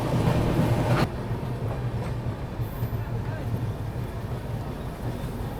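A train rolls past at Kiul Junction on the Howrah route. A loud burst opens the clip, then a steady rumble with rhythmic wheel clatter continues close by.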